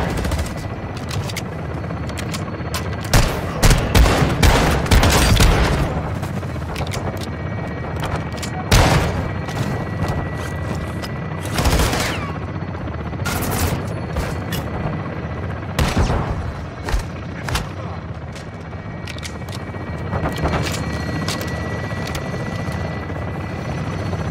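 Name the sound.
aircraft gun run strafing fire in Call of Duty Modern Warfare II video game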